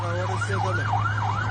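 An emergency siren wails up and down in smooth repeating cycles, with a steady low rumble underneath and no voices.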